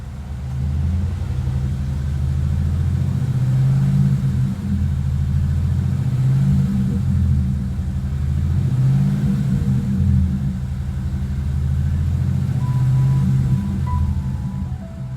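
A Ford Mustang engine with a ticking fault, treated with Ceratec, runs steadily up close, a deep rumbling drone that swells and eases in slow cycles, with no talk over it.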